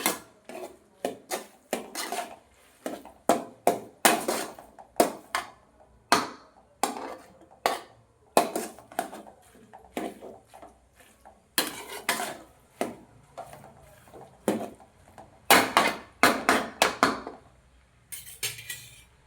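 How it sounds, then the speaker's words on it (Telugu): Vegetable noodles are tossed and mixed in a pan, with repeated loud metallic scrapes and clanks of a utensil against the pan coming in rhythmic bursts, close and without talk. "అంతా మిక్స్ చేసుకోవాలి"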